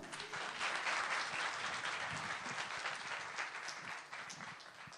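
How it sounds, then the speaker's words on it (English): Audience applause at an anthem launch event, a dense and energetic clapping from a crowd that holds strong for several seconds and then eases slightly toward the end. "So can I have a big round of applause?"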